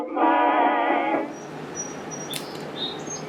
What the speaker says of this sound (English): Can you hear the bird outside?